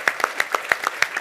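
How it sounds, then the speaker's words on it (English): Audience clapping at a talk: a quick run of about eight close, crisp claps in an even rhythm, heard alone. "I'm sorry, we should clap."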